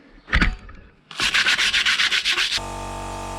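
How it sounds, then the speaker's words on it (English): Rhythmic back-and-forth hand sanding with sandpaper on a Nuffield DM4 tractor nose cone, about a dozen close strokes after a single knock, then a steady hum. "Right, a bit of hand sanding now."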